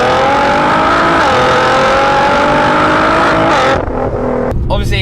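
A tuned 660-horsepower Nissan R35 GTR accelerates hard, heard loud from inside the cabin, its engine note climbing through the gears with a brief dip at a shift, then a change in tone near the end.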